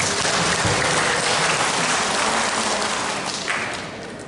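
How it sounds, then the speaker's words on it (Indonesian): Audience applause fills a hall at the 63rd anniversary event of PWRI in Bojonegoro, a dense, steady patter of many hands clapping that carries at full strength before gradually thinning and fading toward the end. "Tepuk tangan Bapak Ibu sekalian."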